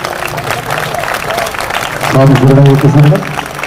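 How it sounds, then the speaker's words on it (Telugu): Applause from an audience at an Ayyappa padi puja gathering, a dense burst of clapping that swells near the end over a background of voices and amplified sound. "అందరూ కూడా అశ్వత్థనాలతో చప్పట్లు కొడదాం"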